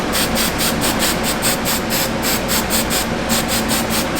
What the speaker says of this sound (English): get the hairspray, just lock it in